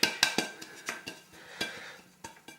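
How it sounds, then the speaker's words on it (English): A buttered, floured pie dish being shaken, a quick series of rattling clinks and knocks in an irregular rhythm, close and alone. "Give your dish a little shake."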